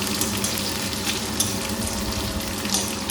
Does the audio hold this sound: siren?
no